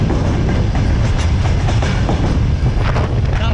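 A freight train rolls on rails in Russia, heard up close as a loud, continuous rumble and roar with rattling wagons and faint rhythmic clacks, buffeted by wind, with no speech.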